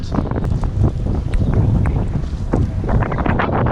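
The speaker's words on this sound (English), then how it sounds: "So much wind." Strong gusting wind buffets the microphone during a cross-country road trip, a loud, rough rumble with irregular bursts throughout.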